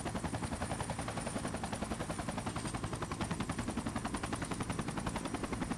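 Helicopter rotor in the video game Project Reality, a steady loud rhythmic chopping thump filling the whole stretch, with dense mechanical noise and possible gunfire mixed in.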